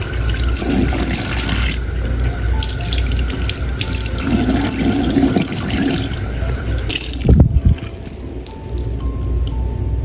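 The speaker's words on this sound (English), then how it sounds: "just gonna go through with the hot water again" Hot tap water runs steadily into a sink while a 1992 Totally Hair Barbie doll's hair is rinsed, a close, continuous rushing splash that cuts off near the end, leaving a few drips and faint handling sounds.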